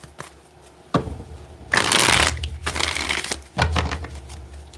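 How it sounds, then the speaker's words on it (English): Tarot cards being shuffled for a reading, with a sharp tap, then two long rustling riffles and a final snap, loud and close and without talk. "Let's get one more good shuffle."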